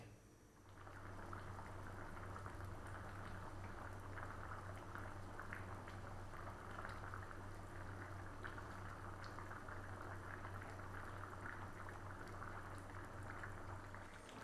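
Lamb coconut curry bubbles steadily in a lidded pot, a continuous close simmering burble with a low steady hum underneath, no talking throughout.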